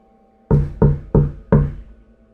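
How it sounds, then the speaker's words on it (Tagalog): Four firm knocks on a door at night, evenly spaced and close, each a sharp thud that rings briefly before the next, alone without talking. "may biglang kumatok sa pintuan"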